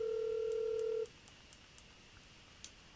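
A telephone placing a call to a Porsche salesman: a steady, clear tone for about a second, then a faint, regular series of soft clicks in near silence.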